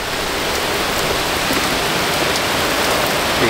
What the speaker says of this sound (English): See, guys, rain's blowing sideways here.